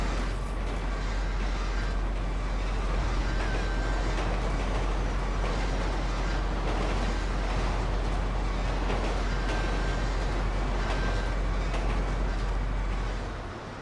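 A train rolls past in GTA Online, a loud, steady rumbling roar of rail cars that runs continuously and close throughout, fading slightly at the very end.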